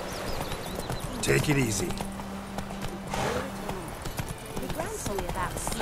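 Horse hooves clip-clopping with a neigh in The Witcher 3 Wild Hunt video game, steady under a voice speaking briefly over the game sounds.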